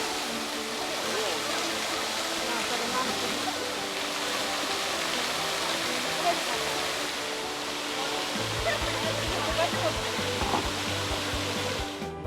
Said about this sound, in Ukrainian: Що скажу за водоспад?